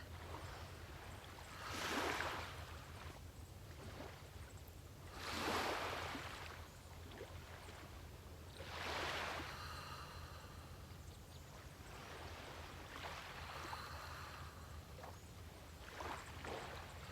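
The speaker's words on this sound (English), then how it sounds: "Listen to the waves." Ocean waves wash in softly from a distance, each swell rising and fading every few seconds over a quiet, constant background hiss.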